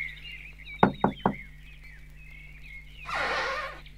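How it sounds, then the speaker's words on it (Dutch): Three quick, sharp knocks land on a cottage door against a quiet nighttime backdrop with faint high calls, followed by a soft rustling hiss. "Ze gingen op het lichtje af en klopten op de deur van het huisje."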